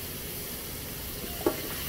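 Chicago-style hot dogs on a griddle give off a steady, moderate sizzle and steamy hiss, with one brief clink partway through and no voices over it.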